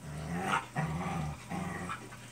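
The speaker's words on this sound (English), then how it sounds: "the dog growls" A dog growls low and close in several rumbling bursts with short pauses between, alone and with no talking.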